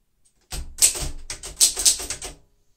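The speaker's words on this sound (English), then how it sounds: "It types really well, and this is a very well preserved and taken care of typewriter." A 1940 Royal Signet manual typewriter with glass keys types in a quick run of sharp, close key strikes, each landing as a crisp clack in an otherwise quiet room.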